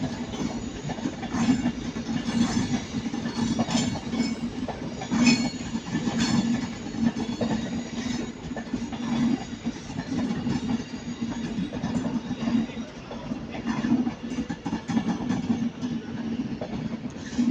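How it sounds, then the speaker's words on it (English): Avanti West Coast Class 390 electric train, unit 390 112, arriving on a terminating service from London Euston at Manchester Piccadilly station, a steady rumbling train noise with faint clinks and wheel sounds, no talk. "that's 390 112 with a terminating Avanti West Coast service from London Euston."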